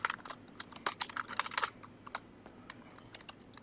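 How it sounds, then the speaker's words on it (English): Quick bursts of typing on a computer keyboard during a bar-themed roleplay game session: close, crisp key clicks in uneven flurries with short pauses, no voices. "Guess now I should be typing it out"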